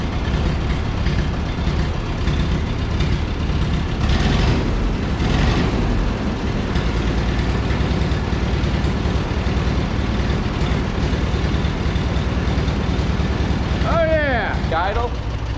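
Ferguson TO20 tractor engine, running again after sitting since 2013, holds a steady, loud, close idle throughout while people talk over it.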